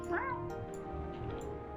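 A single short meow, rising and then falling, sounds close and clear over a low steady background murmur, with other faint sounds after it.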